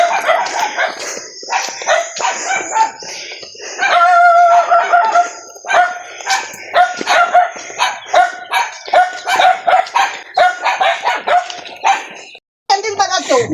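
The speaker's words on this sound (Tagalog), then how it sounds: "Ito yung mga aso nila ni Dona" Dogs bark repeatedly at a rural house in the provinces, close and loud, with roosters or chickens also calling and voices talking among the barking.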